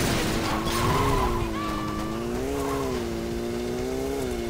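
A car in Saints Row 2 drives on bare rims after losing a tire. Its engine whines steadily with wavering pitch, close and loud, while the scraping rolls on without any talk.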